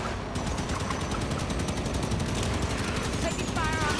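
Rapid automatic gunfire from Halo 5: Guardians co-op play, dense bursts of shots rattling continuously and loudly over game noise, with players talking over it.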